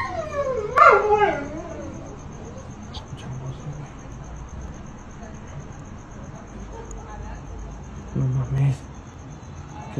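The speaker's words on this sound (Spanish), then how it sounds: "¿Por eso el perro está ladrando o qué?" A dog lets out a short wavering howl-like whine, then a low yelp or bark later, with quiet voices in between.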